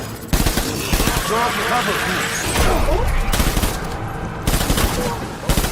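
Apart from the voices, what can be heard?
gunfire from the video game Death Stranding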